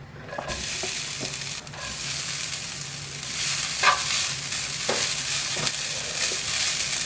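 Grated coconut stirred in a hot pan for traditional ila ada. A spatula scrapes repeatedly against the pan over a soft continuous sizzle, close and fairly loud, with no talking.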